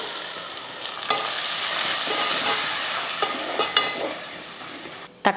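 Onions frying with ground tomato for a wedding-style South Indian vegetarian feast, a constant loud sizzle broken by sharp spoon scrapes and knocks as the mixture is stirred.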